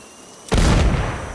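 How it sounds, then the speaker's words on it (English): In the video game Sniper Ghost Warrior Contracts 2, a sudden loud boom bursts in after a quiet moment, then a rumbling decay trails off. "Explosion on the perimeter."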